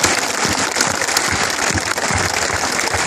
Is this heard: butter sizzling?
no